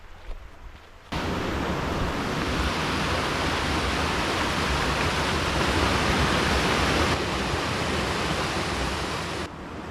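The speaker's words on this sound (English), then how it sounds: "made it to my first kind of real waterfall of the day" A waterfall in Glen Leigh, Ricketts Glen State Park, sends up a steady broad roar of falling water that starts abruptly after a second of quieter ambience and holds evenly throughout.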